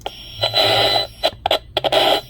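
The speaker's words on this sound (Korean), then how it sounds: "이런 라디오가 잘 잡히지 않는 듯한 이런 변조음이 나옵니다" An FX-7000 RF bug detector puts out harsh, warbling radio-static modulation in loud choppy bursts, cutting in and out several times over a low steady hum.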